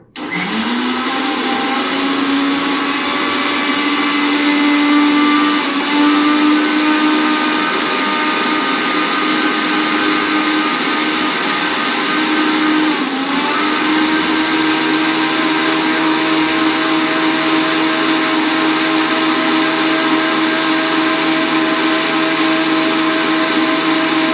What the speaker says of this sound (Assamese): প্ৰথমে মই এই তৰমুজখিনি অলপমান দি লৈছোঁ মিক্সাৰ গ্ৰাইণ্ডাৰত